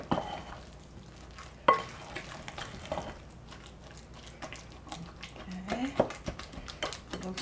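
Peach cake batter with chopped walnuts and peaches being stirred in a bowl, with close, uneven scraping and squelching strokes and a few sharper knocks against the bowl.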